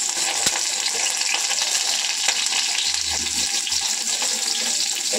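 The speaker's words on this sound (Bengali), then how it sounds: "এবার আমি বেগুনটাকে একটু ভালো করে ভেজে নেব। কড়াতে তেলও গরম হয়ে গেছে" Eggplant frying in hot oil in a wok makes a constant loud, hissing sizzle, close and steady, with occasional faint clinks of stirring.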